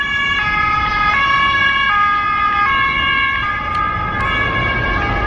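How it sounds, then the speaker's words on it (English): Police car sirens wail on a street in Germany in a steady, loud, alternating two-tone pattern, with traffic rumbling underneath. "Police cars."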